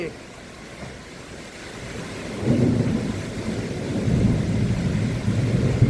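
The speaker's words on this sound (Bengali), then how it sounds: "এই মুহূর্তে খুব জোরে বৃষ্টি হচ্ছে, আর তার সঙ্গে ঝড় উঠে গেছে" A heavy nighttime rainstorm with strong wind roars loudly and steadily, swelling in low rumbling gusts as it goes on.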